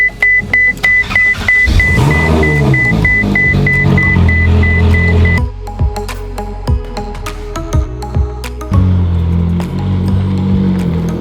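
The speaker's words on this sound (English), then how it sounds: "Right, time to drive the Ferrari to lunch." A Ferrari driven on the way to a McDonald's drive-thru, with a steady engine drone and low rumble, a repeating electronic beep chiming through the first half, and several sharp clicks and knocks later on.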